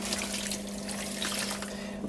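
Water poured into a spice mix for venison summer sausage, a short steady trickling pour heard close over a constant low hum.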